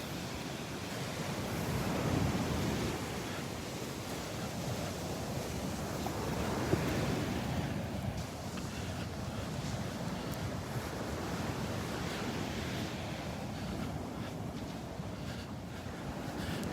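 Ocean surf rolling steadily onto the beach at Delnor-Wiggins on a rainy Friday morning, a continuous broad wash of waves with wind buffeting the microphone throughout and no voices.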